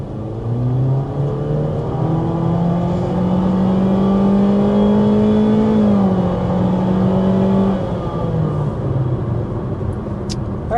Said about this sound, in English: so that was an acceleration up to about 50 miles an hour